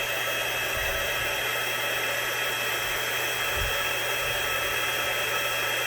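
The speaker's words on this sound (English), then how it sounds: "I didn't have my embossing tool warmed up ahead of time, so it took a little bit longer." A heat embossing tool blows hot air steadily for the whole stretch, a constant close, loud airy roar like a hair dryer, used while making a spring treat holder from paper.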